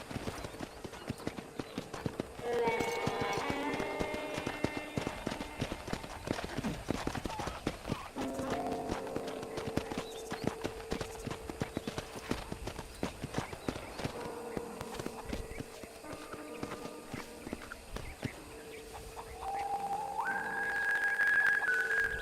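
Hooves clip-clop steadily as a horse is ridden across a ranch in GTA, with whistles and a whinny-like call rising over continuous game ambience for the whole stretch.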